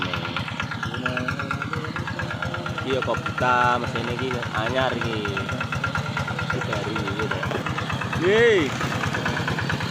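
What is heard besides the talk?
new rice-field plowing tractor engine running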